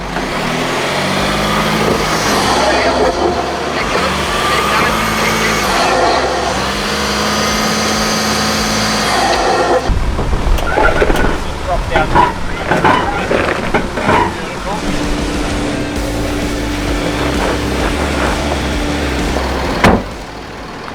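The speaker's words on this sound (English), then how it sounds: "You're just coming up a rock step here, so just keep the throttle consistent." A 4WD vehicle climbs a steep rock step on a Victorian High Country track at Billy Goats Bluff, its engine holding a steady, droning throttle, then giving way to rougher bumps and clunks as it labours upward.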